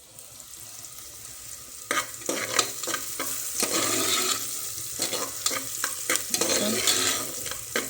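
Coconut roasts in a pan under steady stirring, with a continuous close sizzle that swells after a couple of seconds and carries bursts of scraping and rustling spatula strokes throughout.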